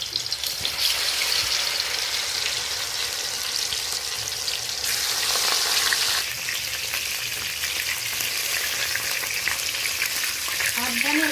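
Prawn-stuffed bottle gourd leaf pakoras in gram flour batter fry in refined oil, a dense, continuous close sizzle that surges midway as pieces go in, with occasional stirring.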